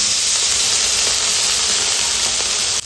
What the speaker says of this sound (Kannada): ಇವಾಗ ಬೆಣ್ಣೆ ಎಲ್ಲ ಕರಗಾಕತ್ತೈತಿದು